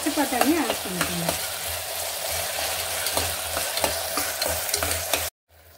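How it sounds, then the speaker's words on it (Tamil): Ginger garlic paste, tomato and green peas sautéing in a pan for a pea kurma, with a steady sizzle and scraping stirring strokes throughout, ending in a brief silence. "இதே நல்லா வதக்கி விட்டுக்கலாம்."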